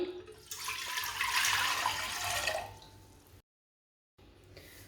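Water pours into a cooking pot of cut carrots, a loud splashing gush that builds and then tapers off, followed by a brief silence and faint kitchen noise; no speech.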